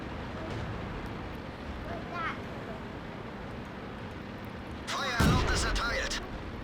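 Tank cannon fire in World of Tanks, a single loud boom with a sharp attack and rumbling tail near the end, preceded by a fainter distant shot, over steady game ambience.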